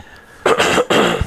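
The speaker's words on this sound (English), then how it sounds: "get your coughs out" Two loud, close coughs in quick succession, harsh and throaty, recorded in a podcast-style room with a faint low thump at the end.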